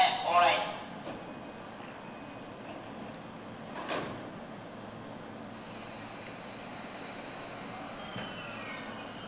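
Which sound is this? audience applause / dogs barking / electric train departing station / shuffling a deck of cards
electric train departing station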